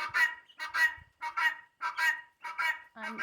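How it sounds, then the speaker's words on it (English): Guinea fowl call loudly in a farm pen, with a run of about six harsh honking cries in a steady rhythm, close and clear against a quiet background. "That must be the head guinea. She's the loudest."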